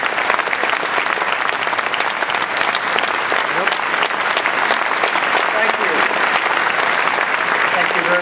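Audience applause welcoming keynote speaker Ozzie Smith at a 2009 Prepaid Expo USA hall, a dense, sustained clapping from a large crowd lasting all eight seconds at even loudness.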